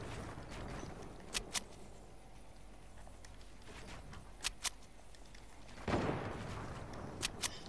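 Gunfire in Fortnite: sharp shots in quick pairs, repeated three times at even intervals, with a rougher burst near the end, all over a steady low game ambience.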